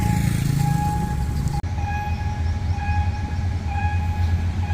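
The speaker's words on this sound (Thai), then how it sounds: "ฮิตาชิเคลื่อนตัวมาแล้วครับกำลังลากรถ ไอ้ลากตู้คอนเทนเนอร์มา" A Hitachi 4507 locomotive hauling container wagons rumbles past up close with a loud, steady low roar, a high tonal whine layered on top and a brief dropout partway through.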